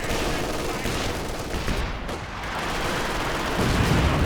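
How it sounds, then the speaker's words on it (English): Dense, continuous battlefield gunfire and artillery rumble from a Company of Heroes 2 multiplayer match, a steady loud wash of shots and explosions with no pauses. "look at how much artillery that is"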